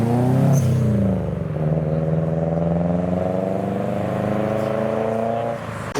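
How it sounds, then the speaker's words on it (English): A modified Subaru leaving a car meet revs hard up close, its engine note climbing and then holding a steady, strained drone for several seconds before easing off at the end. "I can hear a Subaru."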